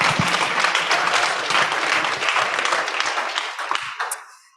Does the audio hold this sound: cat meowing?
no